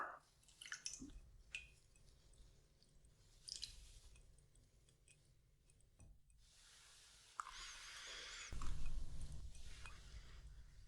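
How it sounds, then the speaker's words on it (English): A drink poured with a twist over clear ice in a whispered bartending roleplay, soft trickles and ice crackles at first, then a steadier close pour that swells near the end. "Try and twist as you pour."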